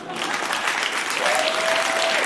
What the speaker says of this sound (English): Isn't that crowd reaction?